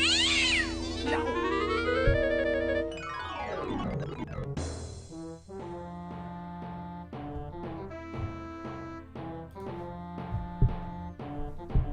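Cat meows from a video game, with an ancient Mesopotamian cat god in the scene, sound over a bright electronic game soundtrack of sweeping tones and rhythmic synth chords, all at a steady moderate level.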